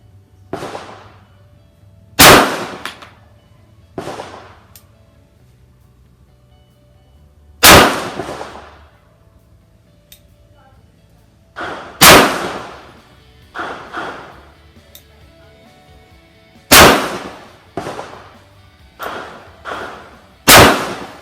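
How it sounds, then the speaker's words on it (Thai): Five sharp, loud pistol shots from a Kimber Pro Raptor II fired slowly at a range target, spaced several seconds apart, each with a short echoing tail and faint background noise between. "ห้านัดแรกของปืนกระบอกนี้"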